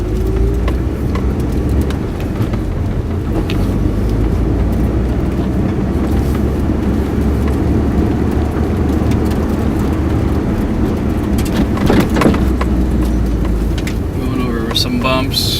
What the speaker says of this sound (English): you can hear how the car sounds as I'm driving